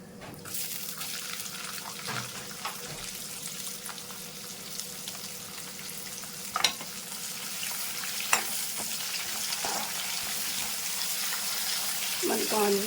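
Onions fry in a pan for a carrot stir-fry, with an even crackling sizzle throughout and occasional stirring knocks, plus a faint watery hiss in the background.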